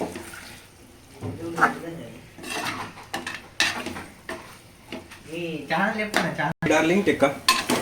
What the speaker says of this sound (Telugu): మంచిగా నిదానంగా ప్లేట్ ఓపెన్ చేసి మళ్ళీ కలుపుతూ ఉండాలి